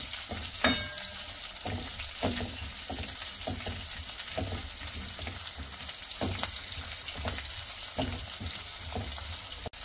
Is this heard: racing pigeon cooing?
no